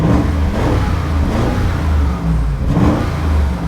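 A steady, loud Audi SQ7 SUV engine hum with a smooth exhaust note in Dynamic sport mode, rising and easing slightly as the revs change, with no voices.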